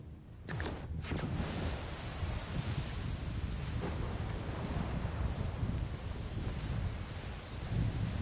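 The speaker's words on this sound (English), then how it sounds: "The rain, the rain." Steady rain with rumbling thunder in the video game Borderlands 4, a dense continuous wash of wet noise and low rolls that fills the whole stretch, loud and close with no voices.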